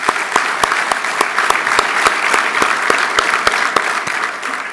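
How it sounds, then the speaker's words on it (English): Applause from the audience at a college basketball awards brunch, a steady wash of many hands clapping with a few sharp, closer claps standing out, loud and continuous with no talking. "Let's give them a round of applause."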